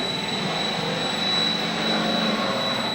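A steady mechanical whine and grinding hum from a 500lb RC wheel loader's drivetrain runs continuously, close and moderately loud, with a high-pitched tone over it and no talking.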